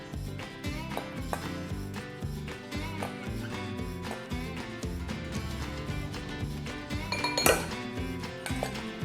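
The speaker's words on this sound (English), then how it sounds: "Now we'll give our rub a little mix." A spice rub with cayenne and pepper for Southern fried chicken is stirred in a bowl, giving light clinks and scrapes of a utensil against the dish over a soft background.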